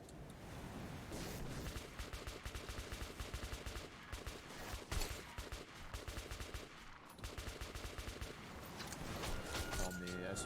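Shotgun blasts from the video game Metro 2033 fired at a monster, a dense run of loud, rapid shots filling the clip with gaming sounds, speech also present in the mix.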